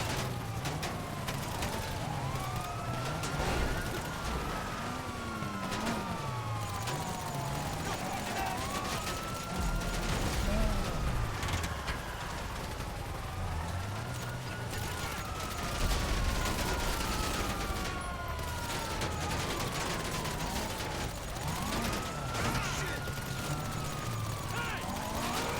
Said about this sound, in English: blowing up multiple cop cars